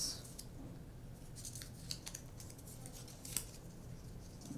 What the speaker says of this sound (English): fold it in half, cut down the middle